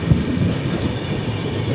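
A freight train rolls past close alongside near Kolaghat, a steady, loud, dense rumble of wagons with faint rattling and no voices.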